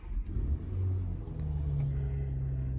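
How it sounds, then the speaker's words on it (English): A 2023 BMW X5 engine cold-starting from the push button: a deep, close rumble that swells to a louder, steady idle after about a second, with no talking. "we're going to start the car, which you can do by pressing the start-stop button right here"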